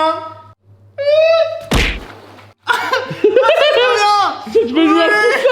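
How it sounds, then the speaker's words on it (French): A person jumps onto a giant XXL water bomb, landing with a loud thud and burst of water noise midway, amid excited speech and laughter before and after. "Je vais me lancer sur la bombe à eau."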